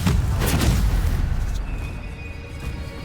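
Incendio fire spell cast in the fantasy game Hogwarts Legacy, a loud roaring fiery burst that crackles and then fades into a lower rumble.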